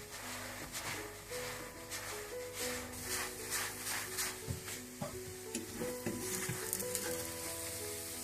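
Lachha paratha fries in a pan over very low heat with a steady, close, soft sizzle and crackle, broken by light scraping and stirring touches.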